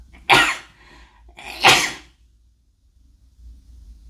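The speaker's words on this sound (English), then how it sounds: "I'm going to sneeze." Two sharp, explosive sneezes burst out about a second apart, loud and close, followed by quiet.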